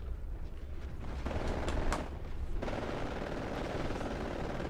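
Rapid gunfire in the Titanfall video game, a dense, continuous clatter of shots that stays loud for the whole stretch, with a few sharper bursts standing out near the start.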